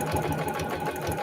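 A home sewing machine stitches a shopping eco bag with a continuous rapid mechanical whir and rattle, loud and close, with no talking.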